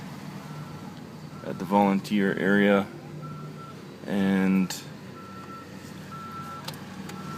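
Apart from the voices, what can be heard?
garbage truck reversing beeps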